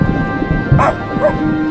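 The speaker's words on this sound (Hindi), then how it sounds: "कुत्ते भौंक रहे थे" Cartoon-style dog barks from dogs on a cold, foggy night, a couple of short yaps rising over a steady background bed with faint voice-like tones.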